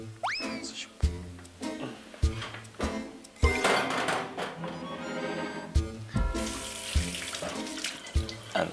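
Tap water runs steadily while dishes are washed at a sink, with repeated clinks and knocks of plates and utensils layered over the close, continuous flow.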